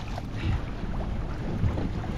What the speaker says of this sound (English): Let's put the engine in gear